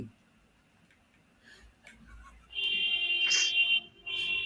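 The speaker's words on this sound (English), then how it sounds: "Beep." Electronic beeps, a sustained steady tone that starts partway through, breaks off briefly and resumes, loud and close after a quieter start with faint ticking.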